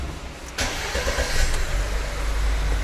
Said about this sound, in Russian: Давайте-ка с вами заведем автомобиль,